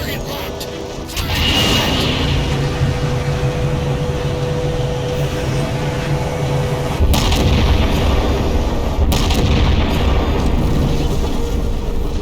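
Heavy artillery cannon blasts from the Halo 4 campaign firing on a locked target, booming loudly over a steady rumbling ship hum, with a voice speaking briefly.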